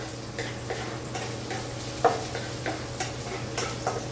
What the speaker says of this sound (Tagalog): nilagay ko yung bawang. Pag-browning muna natin hanggang sa lumabas yung amoy, yung aroma